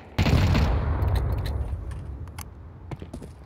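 Gunfire punching through walls in a Counter-Strike match on Overpass, an abrupt loud burst of shots that decays into rumble, followed by scattered clicks and faint taps.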